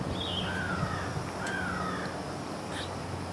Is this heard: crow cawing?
yes